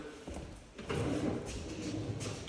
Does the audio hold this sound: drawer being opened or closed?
yes